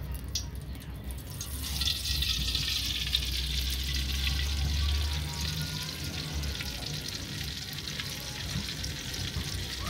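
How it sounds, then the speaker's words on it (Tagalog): Onions and aromatics sautéing in oil in a pan as the base for Filipino kare-kare, a steady soft sizzle with faint stirring throughout, fairly quiet and close, with no talking. "Magigisa na."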